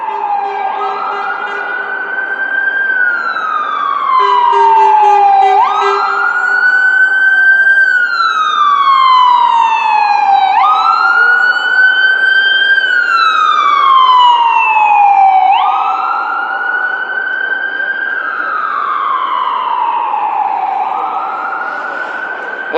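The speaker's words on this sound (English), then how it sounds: "let the ambulance pass, so it's quite loud." Ambulance siren passing along a Washington DC street at night, loud and close, wailing in long rising and falling sweeps repeated about every five seconds, a brief horn blast early on, then slowly fading as it moves off.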